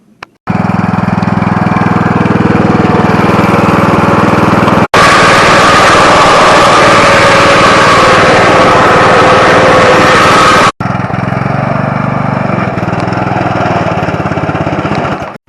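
An 18 horsepower lawn mower engine runs loud and close with a steady droning roar, briefly cutting out twice and resuming, slightly rougher and lower in the final stretch.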